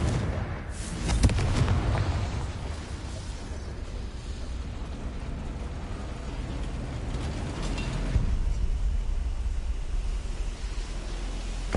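A Confringo fire spell explodes in Hogwarts Legacy, a heavy roaring blast with rumbling debris that carries on for several seconds, swelling again toward the end.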